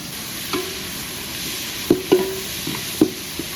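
Curry leaves sizzle and crackle in hot oil, a steady frying hiss with a few sharp pops and spatters, close by.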